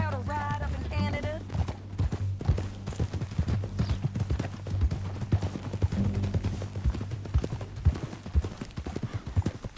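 Horse hooves clip-clop in a steady, rapid rhythm while riding in Red Dead Redemption 2, close and prominent, with a low game soundscape underneath and a brief voice near the start.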